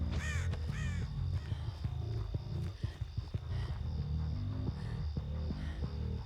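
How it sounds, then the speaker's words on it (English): Crows caw harshly on a dark suburban Haddonfield map in the horror game Dead by Daylight, a few rasping calls over a low throbbing ambient drone with scattered footstep-like thuds. "Crows."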